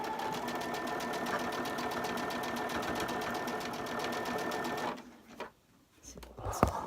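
Sewing machine stitching steadily down one side of fabric, a fast, even mechanical whir with rapid needle clatter that runs loud and close for about five seconds before stopping, followed by faint handling noise.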